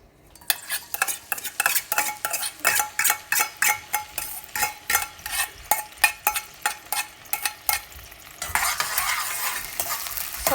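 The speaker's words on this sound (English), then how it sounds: "Saute for 30 seconds" Garlic and green chilies stir in about three tablespoons of hot oil in a skillet, a spoon scraping in rapid rhythmic strokes over steady close sizzling that swells into a louder continuous fry near the end.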